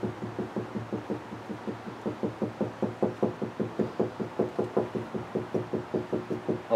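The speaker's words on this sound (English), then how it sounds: "I'm knocking at your back window." Steady, rapid knocking on a back window goes on for several seconds, a close, regular series of hollow raps at an even rhythm with no voices.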